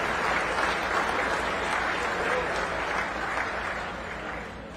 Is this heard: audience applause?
yes